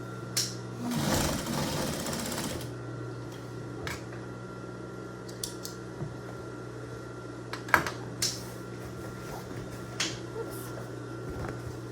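Sewing machine stitching an apron, a short loud whirring burst near the start, then a quiet room with occasional clicks and taps.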